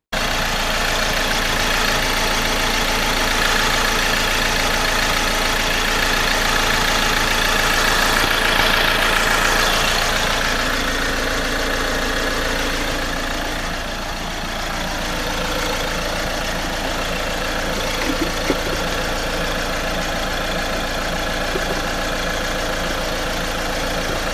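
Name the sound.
Ford Transit Custom 2.2 engine idling after power steering repair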